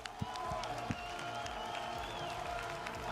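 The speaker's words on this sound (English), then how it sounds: "Allez, on applaudit tous." An audience claps in a burst of applause, with a few sharp individual claps standing out over a murmuring crowd.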